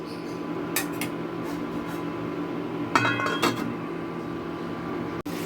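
A lid set down on a pot of home-cooked mourola fish curry with lemon leaves gives a few light metallic clinks around the three-second mark, over a steady low kitchen hum.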